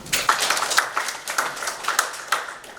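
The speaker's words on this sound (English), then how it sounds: "Let's clap for Professor" Conference audience clapping for a professor, a fairly sparse, moderately quiet round of claps with uneven bursts across a few seconds.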